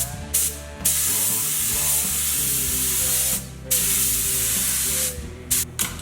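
Aerosol white spray paint hisses over masked-off work on a build in several bursts: a long steady spray, a short pause, another long pass, then a few quick short puffs close by.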